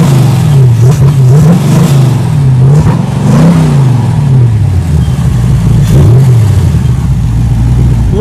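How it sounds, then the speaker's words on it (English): Porsche 914 engine with a mild cam and light flywheel, revved repeatedly in quick rising-and-falling blips over a lumpy idle, loud and close, with no talking. "with the light flywheel it revs really, really quick"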